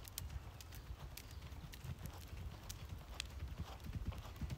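A horse canters on a show-jumping course, its hooves thudding in a steady, fairly distant rhythm beneath light background noise.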